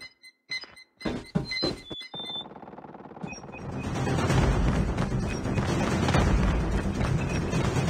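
Sharp metallic clicks and clacks of a weapon being reloaded in Call of Duty Mobile ring out in quick succession, then give way to a rising wash of battlefield noise.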